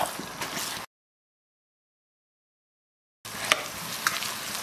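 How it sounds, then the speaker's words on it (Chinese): Dried tofu and chopped scallions stir-fried in a wok, a soft sizzle with light spatula scraping in two short bursts separated by a stretch of silence. "葱花上的水分炒干"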